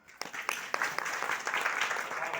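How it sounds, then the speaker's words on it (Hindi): A crowd at a Shivratri festival event claps loudly for the women volunteers, starting with a few sharp separate claps that quickly swell into sustained, fairly close applause. "तो आप सब बहनों के लिए एक बार जोरदार तालियां बजाइए।"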